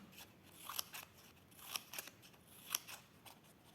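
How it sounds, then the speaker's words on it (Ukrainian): Scissors snip small angled slits in paper, about four quiet, crisp clusters of cuts at a steady pace, close up with no talking. "зараз ножицями ми зробимо ось такі надрізики"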